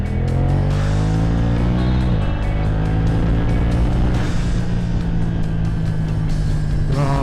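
A BMW F900R 900cc motorcycle engine accelerates hard and loud, its rising harmonic pitch climbing steadily, easing briefly around two seconds and then pulling up again through the gears, continuous with no talk.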